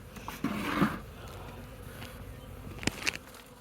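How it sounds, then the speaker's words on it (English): Bees moving from a removed log toward the entrance of a box give off a dense, close buzzing hum that carries throughout, with scattered light taps and knocks, no voices. "the bees are starting to move from the log to the entrance of the box"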